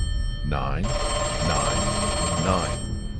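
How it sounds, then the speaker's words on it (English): A phone rings at night in loud, steady bursts, with the ringing cutting out and resuming about once a second across the stretch, close and clear with no talking. "The phone rang, then stopped, then rang, then stopped."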